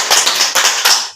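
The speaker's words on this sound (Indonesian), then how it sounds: "Tepuk tangan untuk temannya." Classroom applause for a classmate, a quick burst of many hands clapping together in rapid, slightly uneven rhythm, close and loud, with no talk over it.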